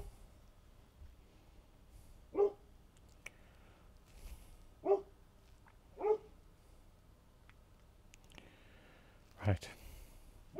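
A dog in a home barks several times, spaced out and somewhat distant, each sharp bark standing alone over a quiet room.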